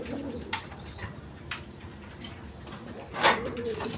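A pair of male pigeons coo softly in a few short, low calls, close by, over a quiet background with brief scratchy knocks and sharp clicks from around the birds.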